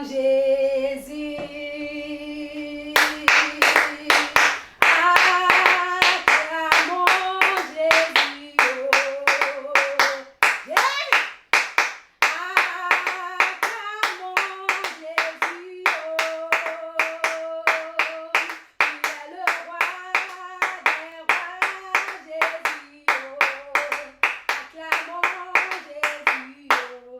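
A church congregation clapping in rhythm to acclaim Jesus, with steady, loud, sharp claps that continue throughout alongside singing voices and music.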